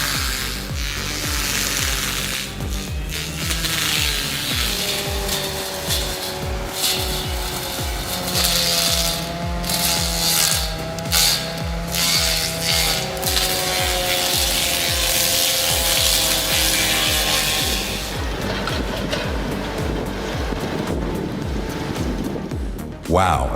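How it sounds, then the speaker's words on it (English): CAT 308E excavator fitted with a grinding head chewing through wood, a steady rumbling engine drone under rapid rough grinding and rasping that swells and pulses for over twenty seconds while a voice talks over it. "With its grinding head, it efficiently trims branches at height"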